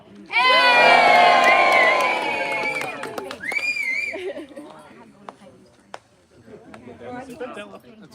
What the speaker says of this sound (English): Oh, another cheer, come on.